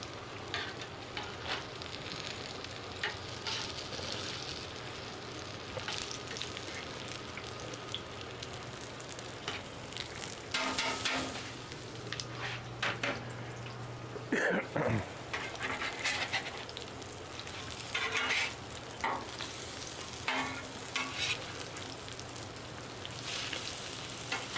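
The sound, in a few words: chicken fried steak frying in hot grease on a Blackstone griddle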